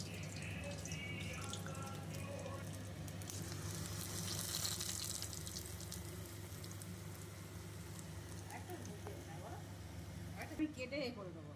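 Battered green chili fritters fry in oil over a low gas flame, giving a continuous soft sizzle with scattered crackles and pops at a low, even level.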